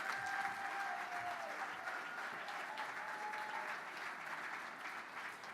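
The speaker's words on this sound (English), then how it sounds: "Round of applause for Karen." An evening gala audience gives Karen sustained applause as she is invited to the stage to present the Legacy Award. The dense, even clapping fills the whole stretch, with faint tones drifting underneath.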